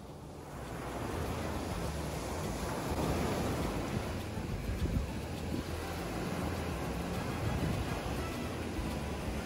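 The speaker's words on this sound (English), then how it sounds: "Now just sit back and enjoy the waves." Ocean surf washes onto a beach as a steady, broad roar that swells slightly and holds for the whole stretch, with no voices over it.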